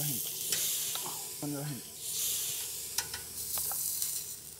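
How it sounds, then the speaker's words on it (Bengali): Eggs fry on the hot engine of a Royal Enfield motorcycle, giving a steady, close crackling sizzle with a few sharp pops. Brief voice-like sounds surface faintly underneath. "দেওয়ার সাথে সাথে ডিম ভাজা হয়ে যেতেছে গা, একদম মসমসে ভাজা"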